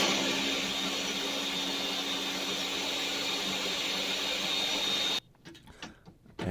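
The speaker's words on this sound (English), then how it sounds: "And this blender is powerful." A powerful blender with sharp blades whirs loudly and steadily while blending a peanut butter chocolate smoothie, then cuts off abruptly near the end, leaving faint rattling and handling noises.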